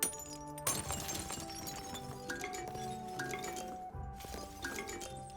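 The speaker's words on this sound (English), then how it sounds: "as you mine ores, you'll now be using a diamond pickaxe from Minecraft" Minecraft-style diamond pickaxe mining sounds modded into Monster Hunter Wilds ore mining: repeated clinking, glassy strikes and cracks over busy game background noise, fairly faint.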